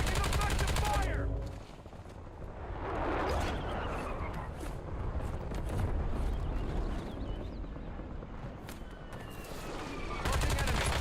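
Dense video-game gunfire in a multiplayer shooter, rapid automatic bursts and sharp cracks from near and far over a rumbling background, with a voice talking in between.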